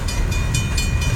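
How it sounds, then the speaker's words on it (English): An L&C freight train, train 14, rolls westbound out of Richburg, South Carolina, on the L&C mainline with a CSX locomotive in the consist: loud, close, steady rumble with rhythmic wheel clatter. "That was LNC train 14 departing Richburg, South Carolina, heading westbound."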